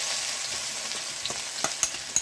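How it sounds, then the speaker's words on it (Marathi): Chili paste and curry leaves fry in a pan for matar kachori filling, a steady close-up sizzle with soft stirring scrapes and a few sharp pops toward the end. "1-2 मिनटं असं भाजून घ्यायची मस्त चांगली व्यवस्थित."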